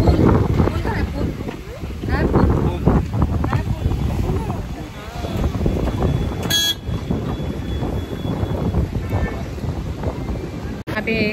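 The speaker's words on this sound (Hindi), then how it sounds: "बाहर में बहुत ज़्यादा आंधी तूफान है, देखो हवा चला था बहुत ज़्यादा" Strong stormy wind blows outside, roaring and buffeting the microphone in loud, uneven gusts for the whole stretch, with a brief sharp tone near the middle.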